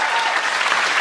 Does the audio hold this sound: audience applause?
yes